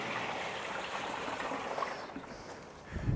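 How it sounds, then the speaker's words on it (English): Water pours steadily into a garden sprayer tank for a lawn spraying job, a continuous close splashing trickle with a small bump at the end. "Alright, so I put my first bit of water in there."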